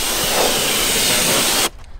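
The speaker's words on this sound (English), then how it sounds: "I'm spraying some iron remover on it just to make sure we get all the iron off" Steady, loud hiss of iron remover sprayed onto the wheels of a BMW F10 M5, holding for nearly two seconds before cutting off abruptly into near silence.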